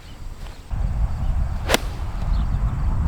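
A golf ball struck with a sand wedge on a course, a single sharp crisp strike cutting through steady outdoor breeze noise, alone with no talk.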